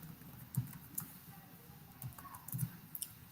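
Keys tapped on a computer keyboard while entering a Vim command on a Linux system, a few scattered clicks with short pauses between them, quiet and close, under a faint room hiss.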